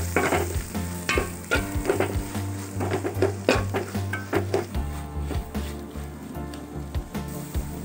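Chicken curry being stirred in a hot pan with garam masala and chicken powder, steady close sizzling and frying with repeated scraping stir strokes throughout, no talking.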